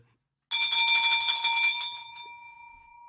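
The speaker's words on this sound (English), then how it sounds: "I'm going to ring the bell for that" A single bright bell rung once in celebration during a live sales-call coaching session, a loud ringing strike whose steady tone slowly fades out alone.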